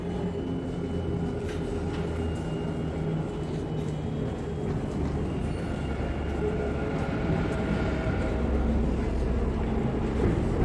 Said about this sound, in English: See, now the train is coming.